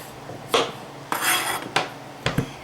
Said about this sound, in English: So you're going to cut the ends off because we want them to stand up.